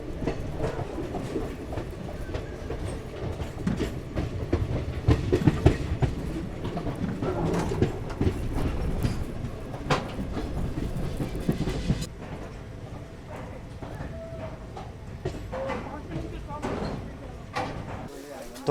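Passenger train running on rails on the final stretch of a journey from Kanyakumari toward Bangalore, arriving at Hosur; steady rumble with rhythmic clickety-clack and rattling heard from inside the carriage, continuous throughout with voices talking over it.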